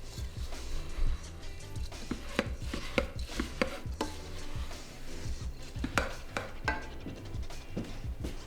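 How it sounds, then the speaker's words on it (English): Porridge oats, salt and golden syrup are stirred together in a bowl for a flapjack mix, with repeated close scraping and knocking strokes of a spoon at an irregular, busy rhythm. "Then stir that all together to thoroughly combine."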